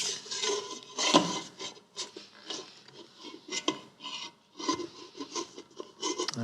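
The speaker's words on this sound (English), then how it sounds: "And we'll scrape the dough together." Dough is scraped together on a floured counter while making classic Italian food, giving repeated short rasping and rubbing strokes, close and fairly quiet, in uneven bursts with no talking.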